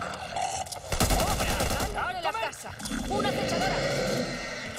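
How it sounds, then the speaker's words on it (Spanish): Bursts of machine gun fire in the video game Back 4 Blood, sharp rapid shots clustered in short volleys amid game noise, with a voice talking over them. "Está guapa esta ametralladora que me encontré"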